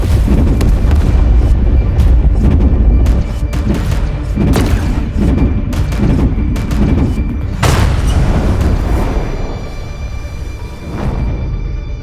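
Starship guns firing in the Warhammer 40,000 game Chaos Gate Daemonhunters, a dense, loud barrage of booming blasts and heavy impacts over a constant low rumble, with repeated sharp cracks throughout.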